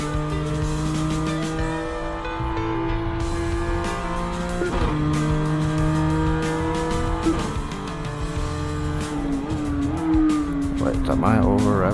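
A race car engine in a VR racing video game revs high and climbs through the gears, with rising and falling pitch and tire squeal, while someone talks over it.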